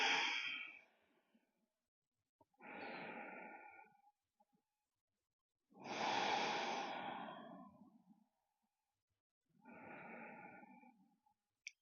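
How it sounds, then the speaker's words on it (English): Four slow, deep breaths during a gentle yoga session for the lower back, each a long airy inhale or exhale of a few seconds separated by short pauses, close and clear with no talking. "And simply taking 5 breaths here. Inhale and exhale."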